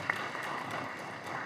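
A seated crowd at a meeting of Bishkek court judges claps in steady, moderate applause, a soft continuous patter of many hands at middle distance that carries on evenly for the whole moment.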